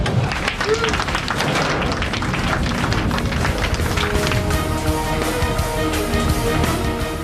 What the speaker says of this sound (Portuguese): Aplausos irrompem espontaneamente.